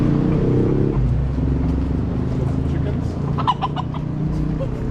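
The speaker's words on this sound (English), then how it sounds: "Chickens." Chickens clucking at a Bucerias eatery, a steady low murmur of fowl noise with a brief brighter squawk near the middle, set against background traffic rumble and faint voices.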